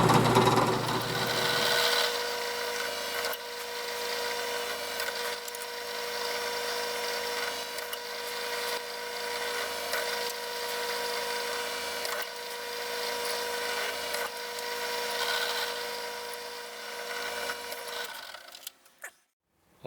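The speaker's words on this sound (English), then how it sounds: "I'm going to drill the holes now" A power drill bores screw holes in the metal framework of a DIY bumper grille for a Chevy Silverado 2500HD, whining steadily and close for about eighteen seconds before stopping.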